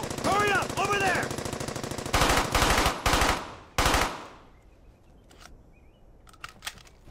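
Machine gun fire in the WWII shooter Brothers in Arms: Hell's Highway rattles in rapid, sustained bursts, loud and close, then breaks into a few heavy separate shots before fading to sparse distant pops, with shouted voices early on.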